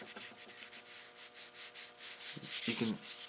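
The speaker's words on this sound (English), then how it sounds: "You can hear your hand sliding on it, and that comes across the mic very, very." Hand sliding and rubbing over the textured body of a Sony Bloggie Sport camera, a close, scratchy friction sound in repeated short strokes, picked up by the built-in mic.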